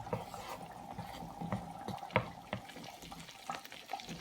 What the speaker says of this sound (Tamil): 500 மில்லி பால் விட்டு கொஞ்சம் மாவையும் சேர்த்து மிக்ஸ் பண்ணணும்